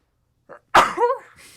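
A single close, sudden sneeze with a short intake of breath before it, followed by a faint trailing breath.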